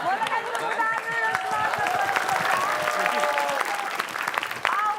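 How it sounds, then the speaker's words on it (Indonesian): Studio audience applause during an Indonesian TV quiz game show, steady clapping throughout with cheering, whistles and voices layered on top, loud and close. "Boleh kasih tepuk tangan dulu"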